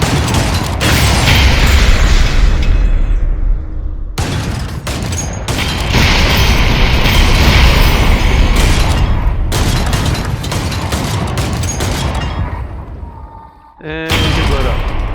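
Explosions and bursts from the VR combat game ArmZ VR, loud booming blasts in clustered volleys with dense crackling debris, broken by brief pauses and a sudden sharp burst near the end.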